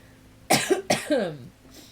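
Two harsh coughs in quick succession, close and fairly loud, followed by a brief quiet tail.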